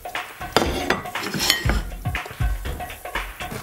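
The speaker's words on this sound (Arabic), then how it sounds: "هلأ بلشنا بسكب الصحون هودي البطاطا الحرة" Plates and cutlery clink and clatter as spicy potatoes are served out onto dishes in a home kitchen, a busy run of close, sharp metallic and ceramic knocks with no talking.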